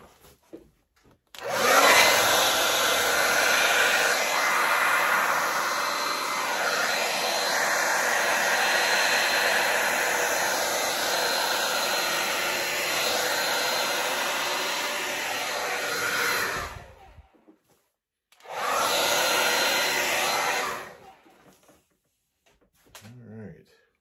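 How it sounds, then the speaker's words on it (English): A hair dryer blows steadily at close range over acrylic paint for about fifteen seconds, cuts off, then runs again briefly in a short second burst. "Get the hair dryer going."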